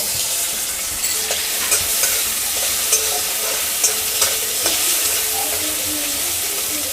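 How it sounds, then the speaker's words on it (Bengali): Seven or eight prawns coated in salt and turmeric frying in hot oil in a wok, a bright continuous sizzle with occasional spatula scrapes and taps, close and fairly loud, no speech. "এবার যে নুন হলুদ মাখানো চিংড়ি মাছ ছিল সাত আটটা সেটাকেও আমি একটু ভেজে নেব"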